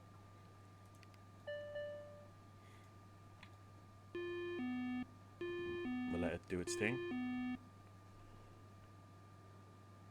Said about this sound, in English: I didn't realise it would beep like that.